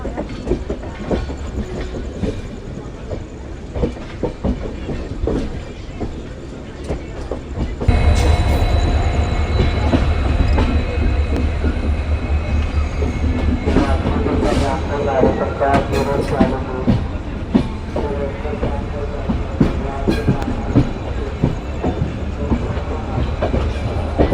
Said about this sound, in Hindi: आने से पहले ही हमारी ट्रेन की गति सीमा 15 किलोमीटर प्रति आवर कर दी गई है।